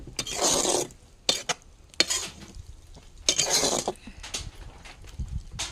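Okra poppy seed curry stirred in a pan, with bursts of scraping and sizzling separated by short pauses and a few sharp knocks of the spoon against the pan.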